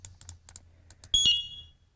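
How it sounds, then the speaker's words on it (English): A sharp, short electronic beep from a firefighter's SCBA PASS device being switched off, sounding as a bright tone after several soft clicks and button presses, close and alone. "you'll get a real sharp, short little beep when this thing is turned off"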